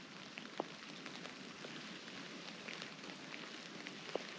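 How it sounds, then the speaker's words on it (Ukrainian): Steady rain falls in strong wind, pattering quietly on a surface, with a couple of louder drips standing out against the soft, continuous hiss. "І дощ."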